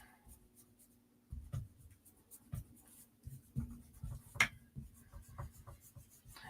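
A pencil scratches and rubs over a sketch on paper, inking over lines with soft irregular strokes, close and faint, in a quiet room with no talking.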